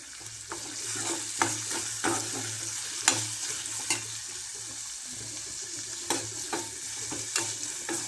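Onion sizzling and frying in a pan for a mixed vegetable dish, with a steady close hiss broken by repeated stirring scrapes and clicks throughout.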